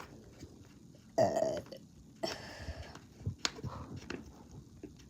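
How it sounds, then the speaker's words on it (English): A person burps loudly and alone: one long, low, croaky belch, then a second, shorter burp about a second later. Softer throaty sounds and clicks follow. "I got a burp, I can't hold it in."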